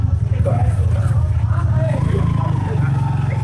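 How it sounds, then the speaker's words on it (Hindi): A local vehicle with a worn, noisy engine rumbles steadily close by in a narrow lane, its low drone continuous throughout while people's voices murmur over it. "असल में यहाँ की गाड़ी लोकल इंजन थोड़े खराब होते हैं, आवाज ज्यादा करते हैं।"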